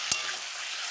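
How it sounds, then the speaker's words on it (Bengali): Fish curry masala made with gorai fish and bottle gourd sizzles in a pan, a brief steady hiss with a single sharp clink of a spatula near the start. "তো বন্ধুরা ভালো করে কষিয়ে গেছি"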